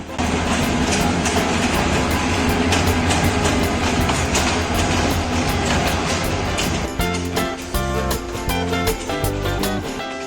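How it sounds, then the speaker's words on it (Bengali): A Bogura-bound passenger train arriving at a station in Gaibandha, a loud continuous rumble of rolling carriages that gives way to a steady tonal drone in the last few seconds, with no talking. "দেখতে দেখতে বগুড়াগামী ট্রেন চলে আসলো"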